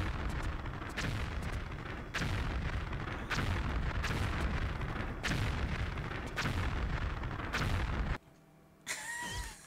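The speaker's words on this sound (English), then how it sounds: "There's all the explosions in front of her." Heavy booming blasts repeat in a steady rhythm of about one every second in the Tomb Raider: Chronicles video game, loud and continuous, then cut off near the end to a quieter stretch with a few short tonal game effects.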